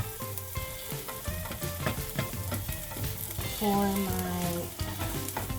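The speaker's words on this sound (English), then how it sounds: "right now I am cooking the onions, making sure they're nice and beautiful" Onions fry in a pan for a quick vegan wrap, a continuous sizzle with stirring under background music, and a voice speaks briefly.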